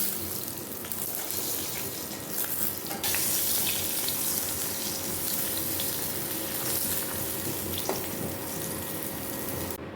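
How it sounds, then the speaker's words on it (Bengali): Eggplant pieces fry in hot oil in a pan for a Bengali katla fish curry, a steady dense crackling hiss that continues throughout without pause. "এবার ঝোলের জন্য বেগুনগুলো একটু হালকা করে ভেজে নেব"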